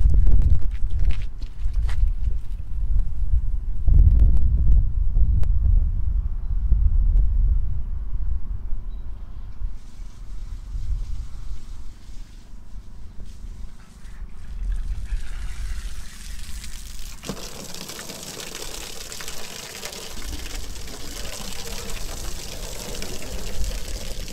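Running water sprays and splashes steadily while rinsing shampoo off a car, shifting to a brighter, harder hiss partway through as the stream hits a surface.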